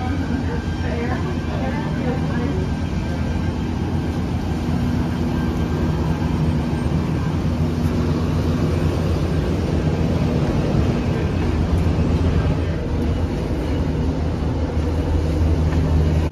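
Airport tarmac ambience beside a Tecnam P2012 Traveler propeller plane at O'Hare, a loud continuous rumble of engines and machinery with people talking throughout.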